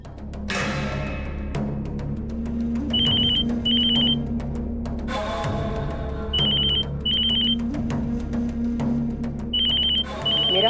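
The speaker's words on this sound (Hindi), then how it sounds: "तुम्हारी बीवी फोन पर फोन कर रही है।" A telephone rings repeatedly in a drama scene, its high electronic double trills recurring in bursts over a low steady hum and background music.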